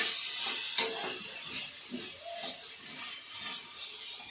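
Garlic and coriander sizzling in a frying pan make a faint, steady hiss with soft crackles and a few small clicks and taps, heard alone without talk.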